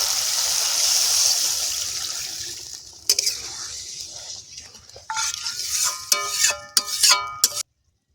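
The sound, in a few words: pouring water into fried masala for fish curry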